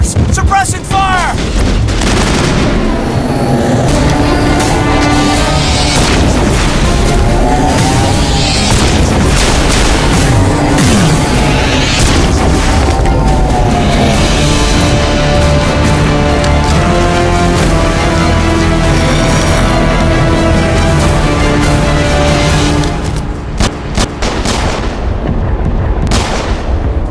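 Loud, dense battle sounds from a Mass Effect fan film: sustained suppressing gunfire and booming explosions layered over a dramatic music score, with shouted voices buried in the din.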